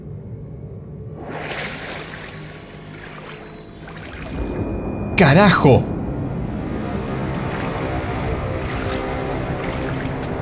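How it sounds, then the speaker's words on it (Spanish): Footsteps wading through water in The Outlast Trials video game, soft sloshing and splashing under a low ambient drone, with someone shouting in the middle. "¿Por qué estoy caminando en agua?"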